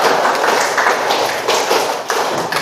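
A classroom group claps hands in time, running a counted pattern of beats twice over in a fast, even stream of sharp unison claps.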